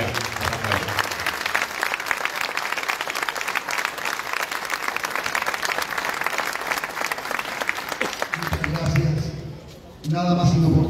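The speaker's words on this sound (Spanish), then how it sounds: "un aplauso para él." Steady audience applause at a Palestinian solidarity and independence day gathering fills about eight seconds, loud and continuous, then gives way to a few spoken words and music toward the end.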